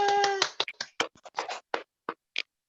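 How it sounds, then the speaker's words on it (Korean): A small audience at a Friday morning company meeting gives a sparse, uneven burst of hand claps to welcome a lecturer; isolated claps follow a short vocal exclamation and then trail off into silence. "큰 박수로 모시겠습니다"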